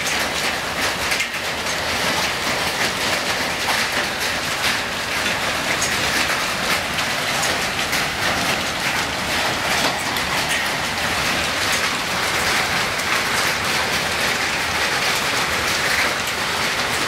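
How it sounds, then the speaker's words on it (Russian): Hail hammers on roofs during a thunderstorm in a dense, continuous roar of pelting impacts. It sounds loud and unbroken for the whole stretch, with no voices. "Это град по крышам бьет."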